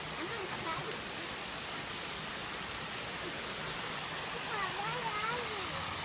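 A waterfall at a park gives a constant broad rushing roar, steady and moderately loud throughout, while voices talk faintly over it.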